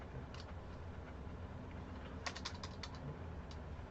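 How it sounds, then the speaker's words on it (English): Random input typed on a computer keyboard, a few quick, faint key clicks in small bursts over a steady background hiss. "I wasn't paying attention to the keyboard and just entered some random stuff into it."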